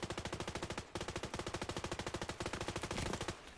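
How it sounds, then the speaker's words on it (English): Rapid automatic fire from a deployable turret in The Division 2, a steady stream of loud, closely spaced shots that runs through the whole stretch with only brief dips. "that's my turret doing the damage."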